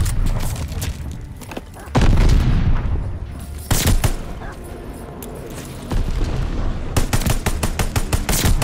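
A BAR automatic rifle in the game Call of Duty Vanguard fires in loud, close, rapid bursts with heavy booming reports, repeated several times across the stretch, with some talk underneath.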